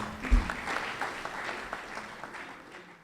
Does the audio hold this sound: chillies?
no